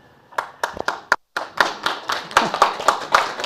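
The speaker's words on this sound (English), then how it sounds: "I can clap for myself" One person clapping their own hands during a church service, about a dozen sharp claps at an uneven pace, close and clear in a quiet room.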